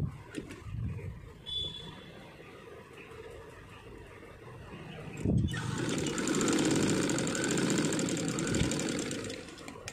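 A sewing machine stitches a katori blouse, running as a steady mechanical whir that starts quietly, turns louder and busier about halfway through and keeps going to the end, with no talking.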